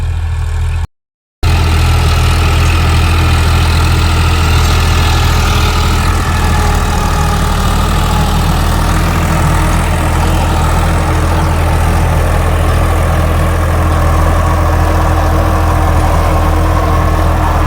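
Eicher 551 4WD tractor running a rotavator at raised speed through grass in a muddy field, a loud steady engine drone with a continuous low rumble and churning, unbroken for the whole stretch apart from one brief dropout near the start.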